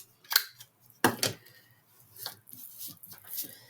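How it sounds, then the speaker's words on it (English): A 4mm corner rounder punch clicks and snaps through the corners of a small art trading card, a few crisp, separate cuts spread across a quiet tabletop. "I'm just going to edge with my 4mm rounder and punch those out for this one."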